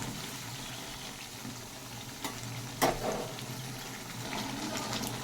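A spice paste with poppy seeds frying in oil for a potato dum, giving a steady low sizzle close up with an occasional clatter of stirring.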